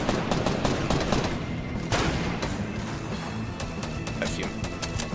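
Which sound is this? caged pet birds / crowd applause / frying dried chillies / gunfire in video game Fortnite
gunfire in video game Fortnite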